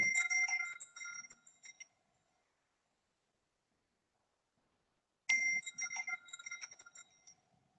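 A phone call ringing tone sounds as two bursts of bright, chiming electronic rings separated by a few seconds of silence, moderately faint and with no talk over it.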